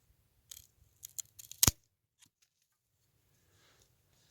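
A few sharp pruner snips cut through an elderberry branch while taking cuttings for propagation, isolated close clicks with one louder crisp cut, otherwise quiet.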